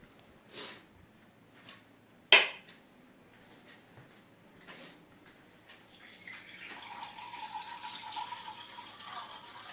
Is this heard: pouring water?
yes